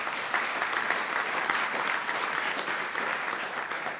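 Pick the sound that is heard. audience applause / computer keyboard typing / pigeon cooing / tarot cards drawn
audience applause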